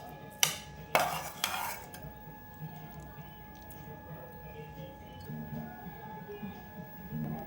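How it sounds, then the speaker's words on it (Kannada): A metal spoon clatters sharply against a bowl a few times while serving Karnataka-style potato palya, loud close clinks near the start followed by quieter scraping and faint kitchen background. "ನೋಡಿ ನಾನು ಒಂದು ಬೌಲ್ ತೊಗೊಂಡಿದ್ದೀನಿ, ಸರ್ವ್ ಮಾಡ್ತೀನಿ."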